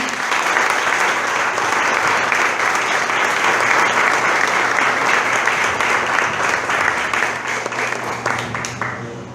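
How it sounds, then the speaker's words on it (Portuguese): A church congregation claps loudly and steadily in worship at a youth service, a dense wash of applause that holds strong before fading slightly at the end. "Adora o Senhor com as suas palmas agora"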